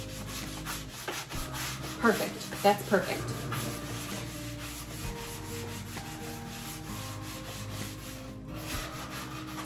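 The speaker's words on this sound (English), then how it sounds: "just a light scuff sanding" Steady rubbing and scraping of sandpaper lightly scuff-sanding wooden furniture continues through the clip, with a few sharper strokes early on. A person speaks briefly.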